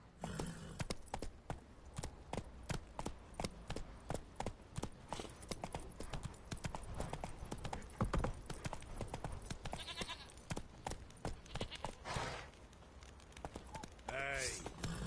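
Hooves of the horse Roach clip-clopping in a rapid, steady gallop in the Witcher 3 video game, close and rhythmic, with brief game sounds and a voice heard near the end.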